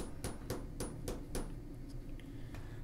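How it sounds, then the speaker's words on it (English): Several sharp hammer strikes drive a roll pin through a 2012 GM high-security door lock held in a fixture clamped in a vise, five evenly spaced metallic blows close by, then a faint tap. "we're going to drive this roll pin through the assembly"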